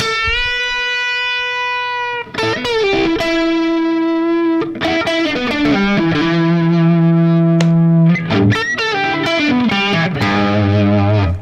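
Harley Benton TE-90 electric guitar with a humbucker and seamless coil splitting, played through effects with distortion: sustained chords and single notes ringing out, loud and continuous with changing pitches.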